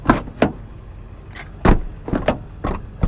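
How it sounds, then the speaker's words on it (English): A salvage Tesla 85D's car door is worked open and shut several times, giving a series of close, sharp latch clunks and thuds with quiet gaps between them. "The door opens and closes very smoothly."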